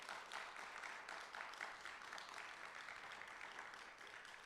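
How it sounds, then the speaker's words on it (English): An audience at a keynote discussion applauds with a soft, steady patter of clapping, fairly distant and even throughout. "Let's give a round of applause for that."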